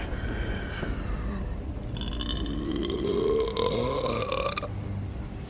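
A long, loud, drawn-out burp from a character in The Northman film soundtrack, rising and croaking over a few seconds against a low background rumble.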